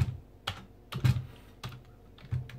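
Someone typing one-handed on a computer keyboard in Notepad: a few sparse, distinct key presses separated by short pauses, close and clear in a quiet room.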